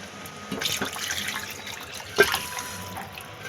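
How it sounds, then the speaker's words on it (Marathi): Cooking water is poured into a pot of mutton korma, giving an uneven splashing trickle with a sharper clink partway through, moderately loud and close, without talk. "जे शिजवलेलं पाणी आहे तेच ॲड करणार आहे"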